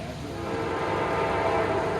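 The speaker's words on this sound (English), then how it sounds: "Oh no, he's honking." A train horn sounds loud and sustained at a rail crossing in Holland, Ohio, a steady blaring tone over the rumble of the passing train for the full two seconds.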